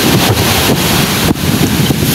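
Large sea waves seen from a small fishing boat, a loud, dense rush of water and wind buffeting the microphone, continuous with brief surges.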